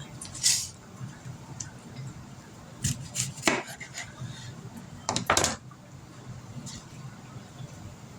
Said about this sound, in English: Now we're going to cut this onion up.